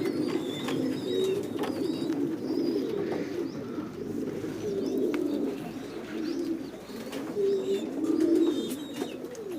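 Pairs of mushki and satin pigeons coo steadily in low, overlapping murmurs alongside a few faint chirps, a continuous busy chorus with no talking.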